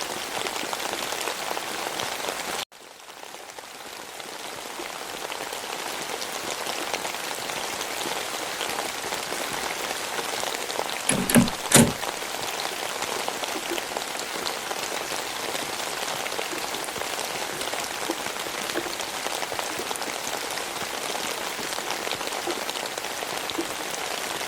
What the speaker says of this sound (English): And it's also raining outside right now,